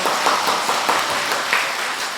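Church congregation clapping for a visiting missionary during a Sunday service, a steady, dense wash of applause throughout with no gaps.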